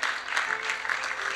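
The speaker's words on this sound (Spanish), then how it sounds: "¿Le da un aplauso al Señor" A church congregation claps for the Lord during a service, dense broadband clapping held steady at moderate level throughout the short span with no voice over it.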